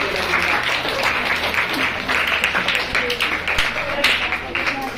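Students clap loudly together in a school classroom, a dense, steady burst of applause lasting several seconds, with a voice faintly audible beneath it.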